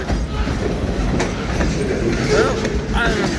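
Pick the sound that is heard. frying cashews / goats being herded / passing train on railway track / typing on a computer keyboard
passing train on railway track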